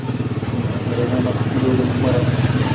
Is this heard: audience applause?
no